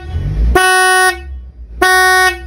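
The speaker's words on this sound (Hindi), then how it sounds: "बगैर हवा वाले, बगैर कंप्रेसर, बगैर टंकी में प्रेशर हॉर्न" An electric pressure horn that runs without an air compressor or tank sounds two loud, brassy blasts, the first about half a second long, the second shorter, close up after a brief low rumble.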